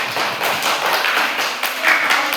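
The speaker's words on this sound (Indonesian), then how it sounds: "Tepuk tangan untuk kelompok 1." A classroom of students applauds a group during a mathematics lesson: a dense, steady patter of many hands clapping at once, close and lively, for a couple of seconds.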